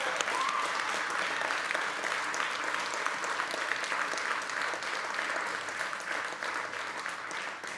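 A church congregation claps at a conference gathering, producing sustained, dense applause from a crowd that holds steady and slowly fades near the end.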